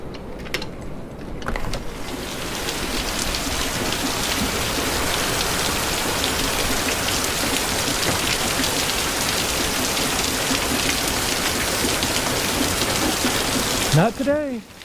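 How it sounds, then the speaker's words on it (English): Heavy rain pours down steadily in a dense, continuous hiss that holds loud and close across the whole stretch, with a brief clatter near the end. "Look at this rain."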